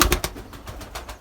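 Racing pigeons in a loft give low, soft coos and a few short bursts, fairly close and alone, with no talking over them.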